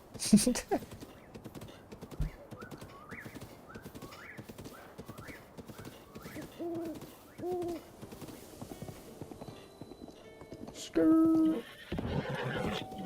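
A horse whinnies several times over steady clip-clopping hooves in Breath of the Wild, with game-style music and effects layered around it, ending in a louder burst.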